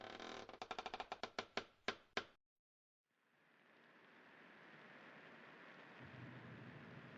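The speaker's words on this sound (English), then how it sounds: "Sounds like rain." Steady rain in the Cooking Companions video game swells in gradually after a brief silence, a soft continuous wash that follows a series of sharp, fading percussive hits.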